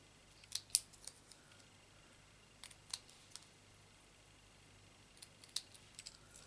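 Faint, quiet snips of scissors cutting paper, a few sharp clicks in small clusters with soft background hiss between them.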